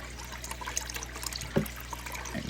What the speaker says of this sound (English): So I just been slowly just filling his bucket up with water